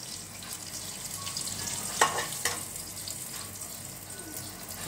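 Steady hot-oil sizzle and crackle of spices tempering with chili and turmeric, with a couple of sharp spattering pops partway through, fairly close and continuous, no voices.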